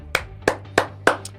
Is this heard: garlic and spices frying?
no